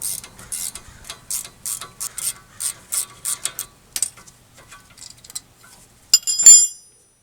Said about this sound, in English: hold that in place while we loosen that caliper bolt